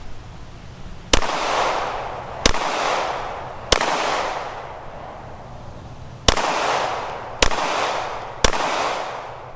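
Six sharp pistol shots ring out from a handgun fitted with a Viridian RFX15 green dot sight, spaced about a second or more apart. Each loud crack leaves a brief echoing decay, and no one speaks.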